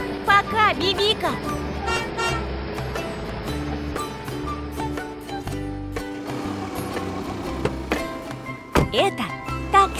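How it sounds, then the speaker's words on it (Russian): Short taxi horn toots sound over lively music and chatter, with a few bright honks standing out among the busy mix. "Это такси."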